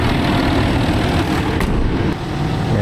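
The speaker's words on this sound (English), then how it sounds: "It's such a beautiful engine." A Land Rover engine with 288,006 km on it idles steadily and close by, a dense, continuous low rumble at even loudness, with no voices.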